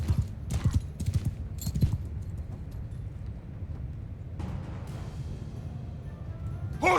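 Horse hooves clatter in a Mount & Blade II Bannerlord battle, with irregular thuds of galloping horses mixed into busy combat noise, including shouts and clashes, that continue under a steady low rumble.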